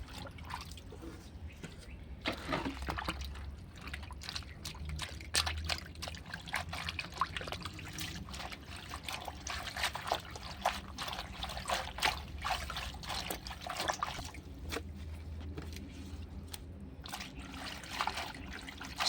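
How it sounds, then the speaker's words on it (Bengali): Kalmi greens (water spinach) being washed in water by hand, with steady trickling, splashing and dribbling of water close by, continuous throughout with faint background sounds. "এবার পরিষ্কার করে ধুয়ে নেবো শাকটা।"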